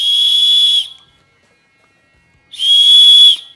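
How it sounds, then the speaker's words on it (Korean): Two loud, shrill blasts from a safety whistle built into a Miller ML-1500 mini lantern, each held for about a second, separated by a brief silence. "이렇게 들게 되면 얘가 호루라기예요."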